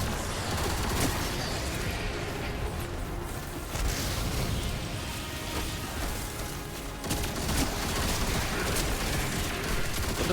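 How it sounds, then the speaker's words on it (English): Machine gun fire in the video game Destiny 2, a continuous dense barrage of rapid shots and booming impacts filling the whole stretch with steady, loud combat noise and no talk. "The machine gun really does help me a lot here."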